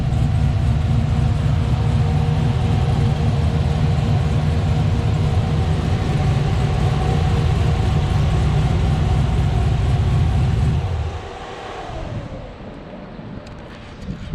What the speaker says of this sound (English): We have the Borla XR1 mufflers on this with a custom exhaust too, so it sounds and runs really good.